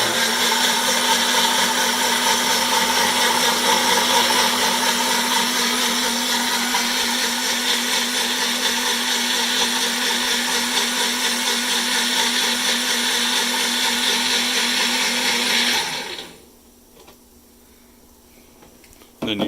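A Magic Bullet blender whirs steadily as it blends hemp seeds with water, a loud continuous motor drone for about sixteen seconds before cutting off abruptly into near silence.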